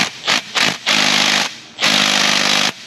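A power tool removes the bottom transmission bolts on a 2016 Chevy Tahoe 5.3 with a 6L80 gearbox, producing loud, close bursts of hammering impact rattle: two short pulses, then two longer sustained runs separated by a pause.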